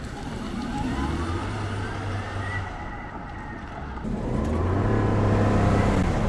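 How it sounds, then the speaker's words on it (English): A 1963 Buick Electra converted to a hybrid electric restomod strains through a burnout attempt, a loud close whine and tire roar that dips briefly, then surges back up and holds to the end. "Are you gonna see if we can do a burnout here?"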